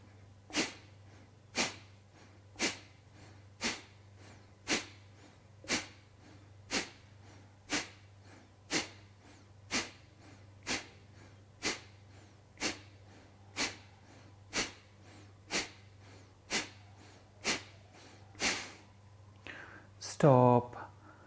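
About twenty forceful Kapalabhati pranayama exhales, sharp nasal puffs spaced roughly a second apart in a steady rhythm over a low constant hum, with a short voice at the very end.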